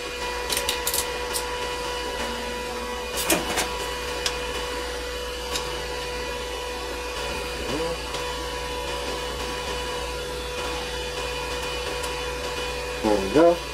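A Riland MMA-160SE stick welder running on 220 volts lays a bead, giving a steady crackling, buzzing arc hiss over a constant hum for the whole stretch, with a few sharp pops near the start and end.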